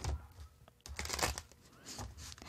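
Quiet rustling and riffling of a tarot-style reading deck being shuffled by hand in several short bursts, close and soft, with no talk.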